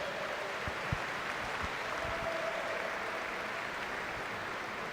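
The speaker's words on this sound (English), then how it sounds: "give them a big round of applause" Audience applause at a YMCA national long course swimming championship in Ocala, Florida, honoring the team coach and manager; a steady, even wash of clapping from a crowd fills the whole span at moderate level, with scattered individual claps standing out.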